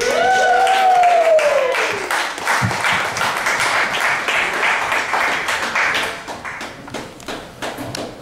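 A comedy club crowd breaks into loud, dense applause for a comedian taking the stage, clapping sustained for several seconds before easing off slightly.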